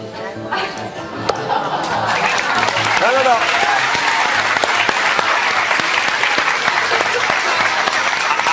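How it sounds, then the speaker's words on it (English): A crowd bursts into loud applause and cheering, dense clapping rising after a quieter start and holding strong, with scattered chuckles and chatter mixed in. "Everyone's cheering."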